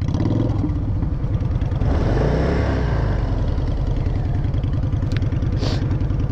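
A motorcycle engine revved hard with too much throttle, a loud continuous harmonic drone that surges up near the middle and runs steadily with a rattling, clattery edge throughout.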